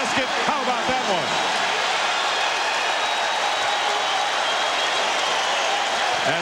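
A basketball arena crowd at an NBA game between the Knicks and Pistons roars and applauds steadily after a highlight basket, a dense, sustained wash of cheering with a commentator's voice running over it.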